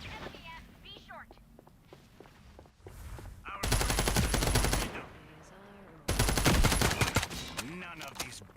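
Bursts of automatic gunfire from a tactical shooter video game, two loud sustained volleys of rapid shots separated by quieter stretches with scattered single shots, mixed with game sounds and a voice talking underneath.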